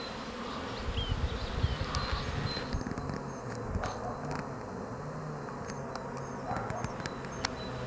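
Honeybees stirred into flight buzz around an outdoor hive in poor weather, a dense continuous drone of many insects close by, with occasional faint clicks and knocks over the steady hum.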